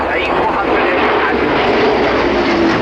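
A Voltige aerobatic display aircraft making a low flypast at an airshow, its engine a loud, steady roar that fills the whole moment, with a voice talking over it.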